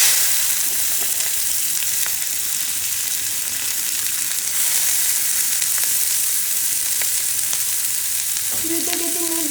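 Small quail eggs frying in a pan, a loud continuous sizzle with light stirring clicks throughout, no talking.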